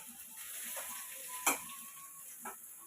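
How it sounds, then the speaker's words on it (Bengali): Soya chunks frying in a pan give a steady, moderate sizzle, with a sharp clatter of a utensil against the pan near the middle and a softer tap toward the end. "এখন সয়াবিনটা ভেজে নেব"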